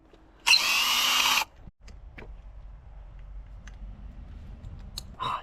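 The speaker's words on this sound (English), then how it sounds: "my drill stopped again" A power drill backing screws out gives one loud, steady whir lasting about a second, followed by faint clicks and handling noises over a low background hum.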